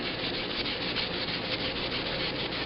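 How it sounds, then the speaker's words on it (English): A Cornelius keg tube used for home brewing, gunked with buildup, is scrubbed and washed, giving a steady close rubbing, swishing scrape that runs unbroken and fairly soft. "And then just wash the whole tube."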